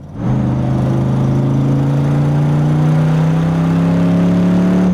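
A 1967 Corvette C2 Stingray accelerates hard past on a track, its loud engine note rising steadily in pitch and staying strong and close throughout, with no talking.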